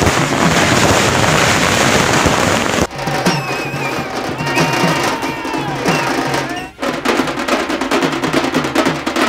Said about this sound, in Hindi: इंदौर में पटवारी की आवाज पर जमकर आतिशबाजी की गई और जश्न मनाया गया।